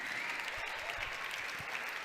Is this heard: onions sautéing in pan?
no